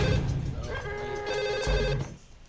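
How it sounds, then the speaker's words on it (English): A telephone rings in the Max Payne video game, a loud repeated electronic bell trill lasting a couple of seconds before cutting off, with game background noise underneath. "I got a phone call."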